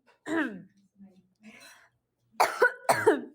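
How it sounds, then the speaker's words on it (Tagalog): A person coughs a few times, with one short cough at the start, a faint throat noise, then two louder, closer coughs near the end. "ubo lang po ako"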